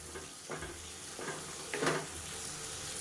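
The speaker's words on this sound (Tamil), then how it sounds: "இப்போ பீட்ரூட் சேர்த்துட்டு நல்லா வதக்கி விட்டுட்டேன்" Chopped beetroot and tomato being sautéed in a pan, a soft continuous sizzle with a few scraping stirs of a spatula, close and low in level with no speech.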